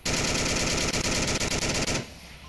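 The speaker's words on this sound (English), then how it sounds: "Shots fired and more smoke thrown" Rapid automatic gunfire in the VR shooter game Onward during a competitive match, a loud sustained burst of closely spaced shots that cuts off after about two seconds, leaving a faint tail.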